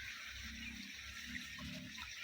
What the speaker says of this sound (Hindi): तो ये ले मैं इस टप में से पानी लेता हूँ